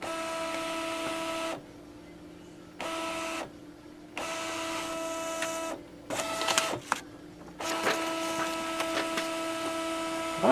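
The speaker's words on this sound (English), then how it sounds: "It's taking a page and scanning." A Brother MFC-7220 printer whirs and hums with steady tonal motor noise, stopping and starting in stretches, with clicks and clatters as a page is fed and scanned.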